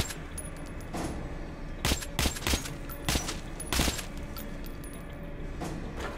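Gunfire in Metro 2033: a handful of sharp shots fired in a loose burst in the middle, over a constant noisy background hum, with no voices.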